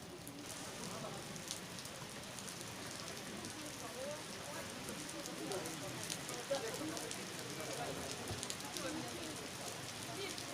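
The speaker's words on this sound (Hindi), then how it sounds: "बहुत तेज़ बारिश हो गई थी और ठंड भी बहुत हो गई थी।" Heavy rain pours steadily outside Manas Airport in Bishkek, Kyrgyzstan, a dense, even hiss of drops hitting surfaces with faint spatters, heard at a distance with no talk.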